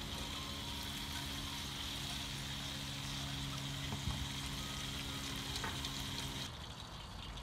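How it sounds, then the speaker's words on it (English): Chicken fries in hot oil with a steady, loud sizzle and crackle that runs unbroken for several seconds before dropping slightly in level near the end, with no talking over it. "while the chicken is frying"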